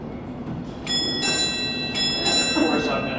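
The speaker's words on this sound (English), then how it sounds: "At 30 minutes, Father Time is going to hit the bell twice with his side" Two metallic bell strikes from the Engel clock's Father Time figure in a clock museum, each ringing with a bright sustained tone, the second following about a second after the first over a steady room hum.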